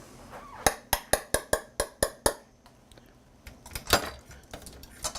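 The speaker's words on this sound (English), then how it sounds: "Now here's where the little whisk comes in handy." A small metal whisk taps rapidly against the side of a pot, about eight sharp, evenly spaced clinks, then a few looser knocks and scrapes after a short pause.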